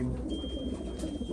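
Racing pigeons coo softly and steadily at close range during a long-distance race basketing, low murmuring calls with no talk over them.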